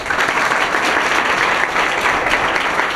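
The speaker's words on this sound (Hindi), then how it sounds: "फिर ताली मारो" School audience at a spot-prize quiz applauding a correct answer, a steady, dense roar of many hands clapping together, loud and continuous throughout.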